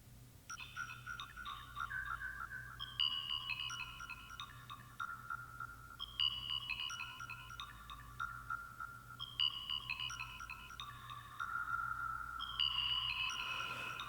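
A bright, bell-like synth phrase plays through the Cherry Audio Galactic Reverb plugin, repeating a cascading pattern of chiming notes every few seconds, each note ringing out into a soft washed tail over a low steady hum.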